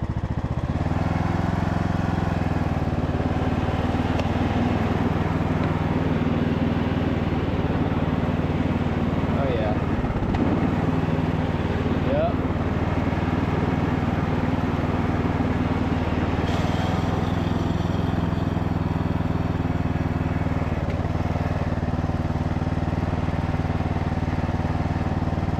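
Riding lawn mower engine running steadily during a reverse-mow test, a continuous close droning hum that holds its level throughout, with a few faint mechanical knocks and possible talk underneath.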